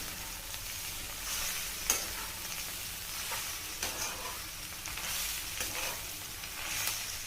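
Mustard greens being stirred and sizzling in a pan, seasoned only with chili and salt, giving a steady frying hiss with soft scraping stir strokes recurring every second or so, close and without talk.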